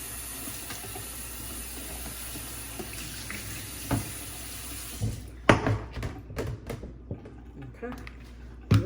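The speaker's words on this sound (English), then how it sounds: "I'm gonna rinse that off so I can use it" Tap water runs steadily onto a small chopping mat being rinsed in a kitchen sink, a continuous hiss broken by louder splashes and knocks near the end.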